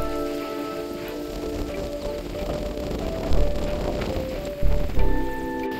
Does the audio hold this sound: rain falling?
yes